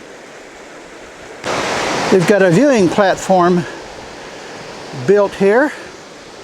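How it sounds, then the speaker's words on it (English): Steady rushing roar of a waterfall near Helen, Georgia, heard from a footbridge over the creek below the falls, a continuous broadband wash under intermittent talk from a nearby voice. "You can hear the waterfall from here."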